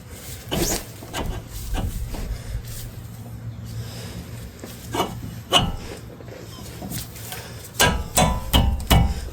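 Hammer blows strike a tapered suspension part on a Chevrolet Suburban during an undercarriage overhaul, giving several sharp metallic whacks spaced apart and then a quick cluster near the end, close and loud in a quiet garage.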